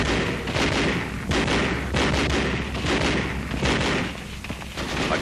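Rapid gunfire and heavy booming blasts from a 1944 infantry-tank battle, machine guns and tank cannon firing in a dense, continuous barrage with no clear pauses.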